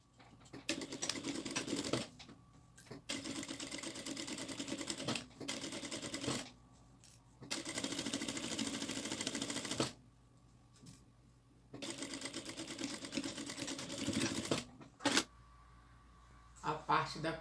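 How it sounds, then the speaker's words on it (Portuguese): A sewing machine stitches across the end of a zipper in a bag-making project, running in several rapid bursts of a few seconds each, separated by short pauses, close and clear. "eu vou fazer a costura bem aqui na pontinha"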